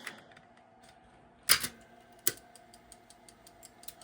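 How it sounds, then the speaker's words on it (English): A 1985 Toyota MR2 Matsushita car stereo tape deck with a loose belt running, giving faint mechanical ticking and clicks with two sharper clacks, no talking. "Let's see how the tape deck works."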